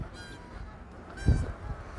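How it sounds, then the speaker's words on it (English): Geese honking outdoors on a cold, snowy Chicago street, one loud nasal honk standing out over steady traffic rumble with a few fainter calls around it. "I hear these geese here."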